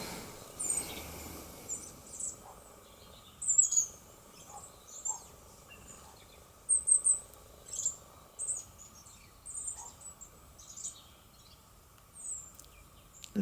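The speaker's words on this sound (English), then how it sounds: "Little birds are singing away." Small birds sing in scattered bursts of high chirps and trills around a driveway in an oak landscape, with steady faint insect-like buzzing underneath and a quiet outdoor background.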